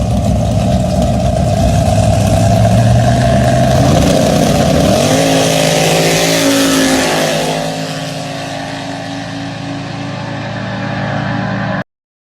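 Race cars running a race final, engines droning steadily with a revving pitch shift midway, loud and continuous before easing slightly toward the end.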